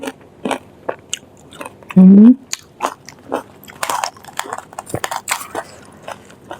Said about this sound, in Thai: บัวกรอบมากเลยอ่ะ